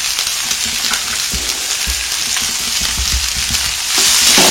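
Capsicum sautéing with salt in a pan for Tamil-style capsicum poriyal, giving a steady loud sizzle and fry hiss with occasional stirring scrapes, no voices.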